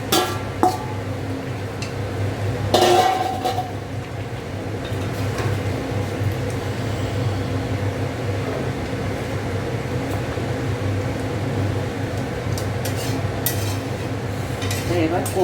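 Potatoes are tipped into a pan of spiced home-cooked curry and stirred, with a metallic clatter near the start over a steady hum of cooking, then continuous soft scraping and stirring without talk.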